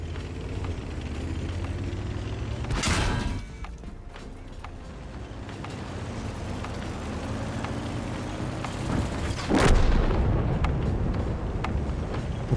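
A World of Tanks battle in which a Scorpion tank destroyer's shell strikes an enemy tank: two sharp, heavy impact blasts several seconds apart, each cutting through a steady rumble of engines and battle ambience.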